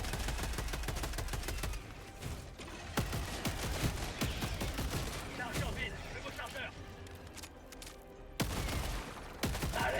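Sustained rapid gunfire and bursts in the cooperative shooter game Helldivers, loud and dense, with brief lulls and French-speaking players talking over the shooting.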